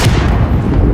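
A missile fired in Call of Duty: Modern Warfare (2019) lands as a loud, booming blast, a heavy rumbling roar that fills the whole second at close range.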